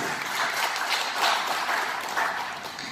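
Audience at a seminar in Sri Ganganagar, Rajasthan, applauding steadily for three seconds, a dense, even patter of many hands with no voices over it.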